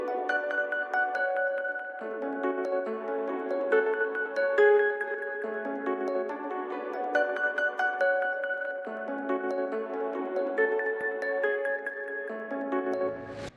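Soft sustained chords from the 'Faithful High Pass' vocal preset in the Expand plugin shift gently every couple of seconds, washed in reverb, a continuous airy synth-vocal pad with no talking.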